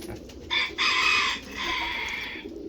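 A rooster crows loudly nearby in a pen where chickens, parent birds with their chick, are kept, giving one full drawn-out call with a brief break.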